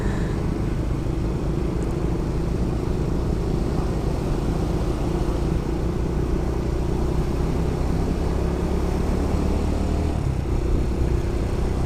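Traffic on a road with cars passing, a loud, steady engine and tire rumble that fills the whole stretch without letting up.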